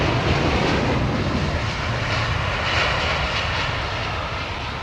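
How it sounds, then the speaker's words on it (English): Airliner jet engines roar loudly and steadily as the plane makes a low departure from the runway, a broad rumbling wash that stays strong throughout. "A low slung departure"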